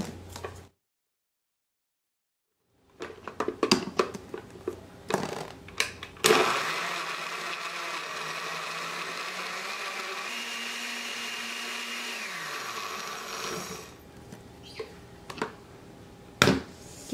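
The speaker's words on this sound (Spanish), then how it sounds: "Le voy a estar agregando una taza de agua y lo voy a licuar." A blender runs steadily for several seconds, liquefying cucumber with a cup of water for cucumber lemonade, its motor whirring loud and close before winding down, with kitchen clatter around it.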